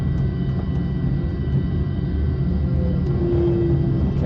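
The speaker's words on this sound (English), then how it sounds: "What you'll notice about a jet engine is, as I ask for power, it takes time." Avro Vulcan bomber Olympus jet engines slowly spooling up in a flight simulator, a loud steady low roar with a faint rising whine toward the end, no voices.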